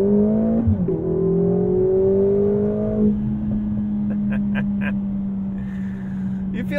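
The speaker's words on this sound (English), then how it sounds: "So harden the brake, pin the throttle." A 2022 Mercedes-AMG GLA45 launching at full throttle in race mode, a loud steady engine drone rising in pitch as it accelerates, close and continuous, with a gear change near the start and a few clicks later on.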